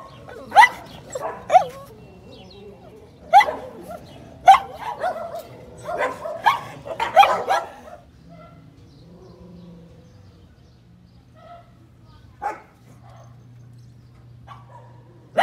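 Dogs barking in a Puerto Peñasco, Mexico setting: several loud, close barks and yips in an irregular burst over the first half, then quieter scattered barks with a low hum underneath.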